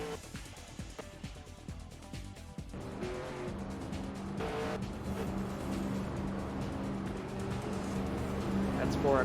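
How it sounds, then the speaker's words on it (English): Stock race cars in a video game racing league firing up their engines, a dense steady engine roar that builds and thickens after a few seconds, with a voice talking over it. "gentlemen, start your engines."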